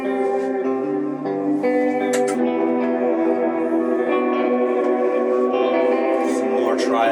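A synthesizer, the ARP 87, plays a simple sustained chord progression soaked in delay and reverb, the chords changing smoothly and the echoing tails ringing steadily throughout.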